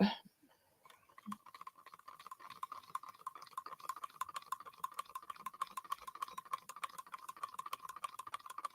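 Steady rapid clinking and scraping of stirring in a mold mixture, quiet and close, with a faint voice at the very start.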